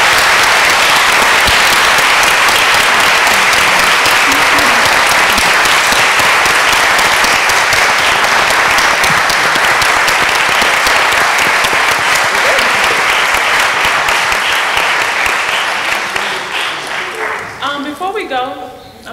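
Loud, dense applause from a seated audience at a panel discussion on school discipline, packed with continuous clapping that holds strong for most of its length, then thins into a few scattered claps at the end.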